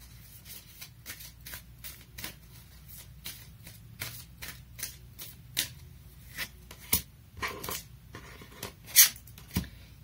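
Oracle cards are shuffled by hand close up, with a run of quick, soft riffling flicks and a few sharper slaps as the deck is cut and squared, in a quiet room.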